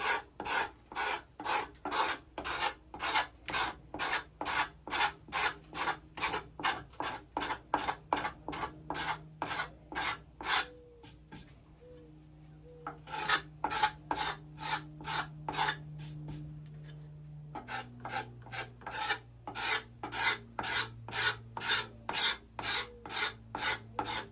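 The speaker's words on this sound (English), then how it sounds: "I'm just going to lightly scrape this funk off of it." Sticker residue being scraped off a tool surface, a rapid run of rhythmic rasping strokes, close and crisp, with a brief pause midway before the steady scraping resumes.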